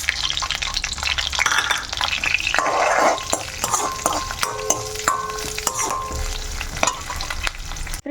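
Tomato chutney ingredients and curry leaves frying on low flame, a close, crackly sizzle with frequent spatula scrapes and clinks against the pan, busy and uneven over the steady frying.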